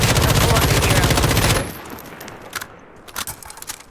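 Rapid automatic rifle fire with an ACOG optic in Call of Duty Modern Warfare, a dense loud burst of shots lasting about a second and a half, then clinks and faint clatter as it stops.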